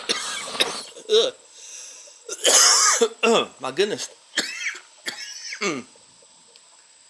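Several harsh, rasping coughs and throat clearing from propane torch weed burner smoke come in bursts, with a man muttering briefly between them.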